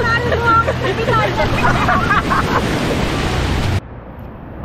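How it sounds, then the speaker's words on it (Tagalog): Heavy surf pounding a beach in La Union, a steady roar of crashing waves with a busy crowd of people talking nearby, the wash cutting off abruptly near the end. "Napakalakas ng alon"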